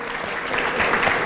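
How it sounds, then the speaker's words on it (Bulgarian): A conference audience at a QA event closing ceremony claps in a short, dense burst of applause, loud and continuous with no talking over it. "QA, аплодисменти"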